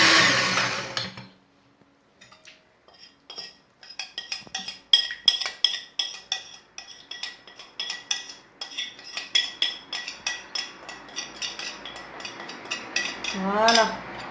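Chocolate flan cake batter being mixed with whisked eggs and sugar in a bowl, a steady run of quick clinking, scraping utensil strokes close by, with a brief mechanical whir near the end.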